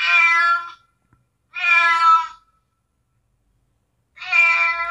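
A cat meows three times, long drawn-out calls close to the microphone separated by short silences.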